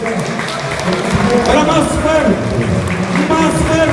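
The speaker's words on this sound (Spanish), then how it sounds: "Señoras y señores, vamos a escuchar el aplauso de todos ustedes." Crowd at a basketball game clapping during a timeout, a dense continuous wash of applause throughout, loud and close, with an announcer's voice talking over it in Spanish.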